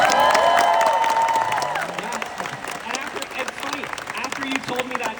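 Crowd clapping and cheering at Star Wars Celebration 2025, a loud, steady roar of applause that slowly thins, with a voice sounding briefly over it early on.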